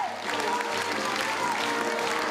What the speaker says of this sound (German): Es klappt, die Menschenpyramide der Pinguine gelingt unter großem Applaus.